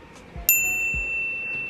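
A small bell sound effect gives a single bright, clear ding that rings on and slowly fades, with a couple of soft low thumps around it.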